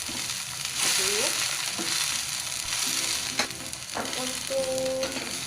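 Capcay vegetables, including baby corn, stirred in a hot pan: a steady sizzle of frying with scraping and clinking of the spatula against the pan, close up, with no talking.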